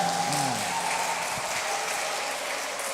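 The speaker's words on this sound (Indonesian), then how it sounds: "Tepuk tangan untuk remaja GKP Cengkareng" Applause for the youth section at a church Christmas service, a steady wash of clapping from the congregation at moderate level, with a faint tonal hum and brief sounds early on.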